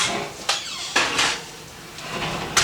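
A roasting dish holding garlic chicken is slid into a home oven, giving several sharp metallic clanks and knocks over a soft background hiss, with no talking.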